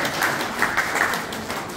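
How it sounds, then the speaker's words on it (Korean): Audience at a Pocheon community welfare council awards ceremony applauding, a dense steady clapping from a crowd in a hall, moderately loud and continuous without talk. "박수로 맞아주시기 바랍니다."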